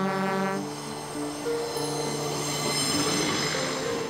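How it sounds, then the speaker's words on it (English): A train rolls along the railroad near Svitavy, its wheels squealing in high steady tones over a continuous rumbling roll, moderately close and with no voices. "be lulled to sleep by the monotonous sound of the railroad"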